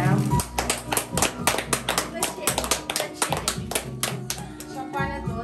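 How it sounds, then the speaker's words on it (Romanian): Applause for Mrs. Vera at a surprise celebration in Capaclia, with flowers and cake: many hands clapping steadily and loudly throughout, close and dense, with voices mixed in underneath. "Haideți o aplaudă!"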